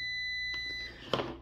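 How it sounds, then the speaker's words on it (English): A multimeter's continuity beep sounds as one lead sits in a small hole and the other touches a small prong: a steady high electronic tone held alone, then a short click or clatter near the end. "place one lead inside the small hole and place one lead on the small prong, and you should hear this same beep."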